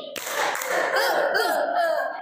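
A classroom of students claps a patterned rhythm together during an ice-breaker, with a few sharp claps among dense, uneven clapping and voices mixed in throughout.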